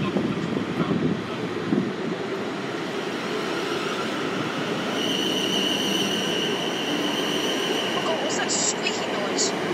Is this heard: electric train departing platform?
yes